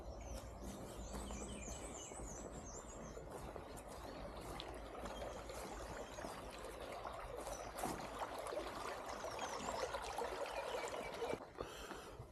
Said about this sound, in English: exploring this water flow